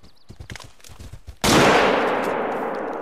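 A single loud rifle shot in the hunting game theHunter: Call of the Wild cracks out sharply after some quiet shuffling and faint noises, its echo ringing and slowly fading.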